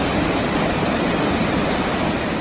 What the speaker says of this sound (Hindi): यहाँ नदी का प्रवाह बहुत तेज है